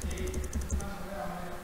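Quick bursts of keystrokes on a computer keyboard while a down-counter program is typed for a microcontroller lab, the clicks close and crisp at first, then thinning out to quieter background noise.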